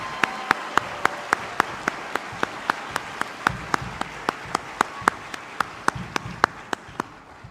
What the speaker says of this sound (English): claps and drums.